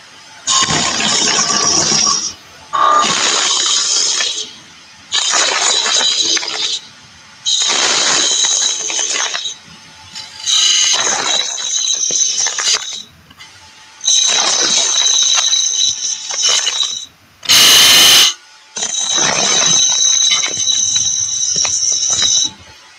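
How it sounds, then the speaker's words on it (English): Spindle gouge cutting a wooden workpiece on a lathe, reducing a diameter near a tenon, in loud repeated passes of rough scraping hiss separated by short pauses, close to the tool. "using your gouge, your spindle gouge, we're going to take this diameter here down very close to that diameter there on the tenon"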